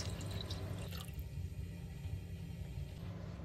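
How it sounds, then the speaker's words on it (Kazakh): Water runs steadily for a few seconds over a low background rumble, with a brief heavier splash near the start. "Сосын суымызды құйып аламыз."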